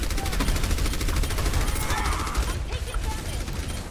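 Turret gunfire in an Overwatch match rattles in rapid bursts among other game effects, fairly loud and continuous, with players' voices talking over it.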